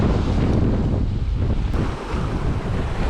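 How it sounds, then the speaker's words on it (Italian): Strong wind buffets the microphone at the seaside during a fishing outing, with a steady roar of gusts and surf filling the whole clip, loud and continuous with no talk. "Deve calare il vento, ragazzi. Non riesco neanche a stare con la canna dritta."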